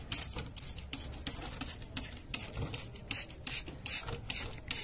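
Hand spray bottle misting water over freshly sown spinach seeds under a thin layer of soil, a rapid series of short hissing spritzes in uneven rhythm, close and fairly quiet, with no voices.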